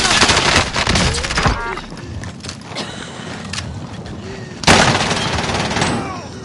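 Bursts of rapid gunfire crackle and pop in a PS4 shooter game, with a loud opening volley, a quieter stretch of scattered shots, then another heavy burst near the end, while a player speaks briefly.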